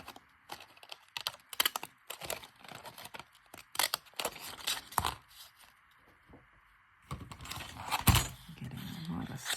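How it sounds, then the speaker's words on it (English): Paper is cut with scissors at a desk, giving irregular crisp snips and rustles in clustered bursts, close and fairly quiet, with a pause partway through. "So I'm going to have to cut this with the scissors and line it up"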